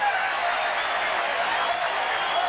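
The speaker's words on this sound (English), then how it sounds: "Well, this crowd came out to cheer." A baseball stadium crowd at a Reds–Mets game at Shea Stadium in New York, a steady wash of cheering and roaring, distant and sustained with no distinct voices.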